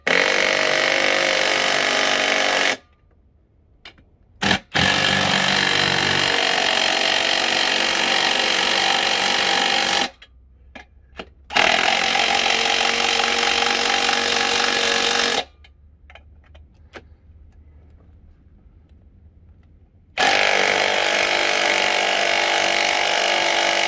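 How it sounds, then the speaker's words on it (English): An impact wrench tightens wheel bolts while a tire is refitted on Hutchinson wheels: three long, loud, harsh mechanical bursts separated by short near-silent pauses, close by with no voices. "we can use the impact to just tighten it"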